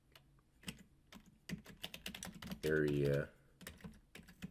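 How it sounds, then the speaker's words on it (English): Quick, uneven keystrokes clatter on a computer keyboard during a trading analysis session. A person speaks briefly partway through and the typing continues after. "So I'm going to type this up as we speak."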